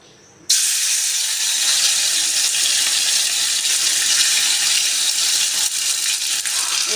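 Tomatoes hit hot oil in a pan for a dal tadka, bursting into a sudden loud, hissing sizzle that holds steady and close for several seconds.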